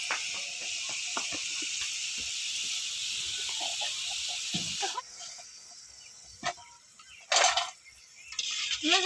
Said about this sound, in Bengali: আমি এইবার সবগুলোকে এইভাবে ভেজে নেব।